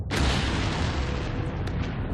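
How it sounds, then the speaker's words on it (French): The 1945 atomic bomb explosion at Hiroshima bursts as a sudden, loud, deep boom that rolls on as a dense, sustained rumble with no voices over it. "l'explosion atomique d'Hiroshima livre enfin de surprenants indices"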